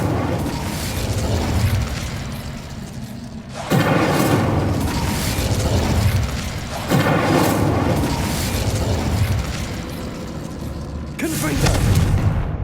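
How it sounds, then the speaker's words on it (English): Incendio fire spell cast in Hogwarts Legacy during combat, three loud bursting whooshes of flame at regular intervals over background game sound and rumble. "Incendio."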